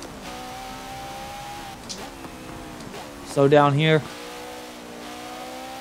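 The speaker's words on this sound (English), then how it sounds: "Actually get a little bit of drift out of this Porsche." A Porsche in Forza Motorsport 7 holds a steady engine drone that swells into a loud, strained rev as the car drifts, with a brief squealing burst near the end while someone talks over it.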